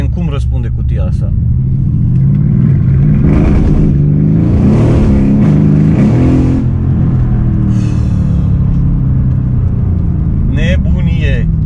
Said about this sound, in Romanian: Hai să-l lăsăm pe auto să-și facă ea treaba și să vedem cum răspunde cutia asta.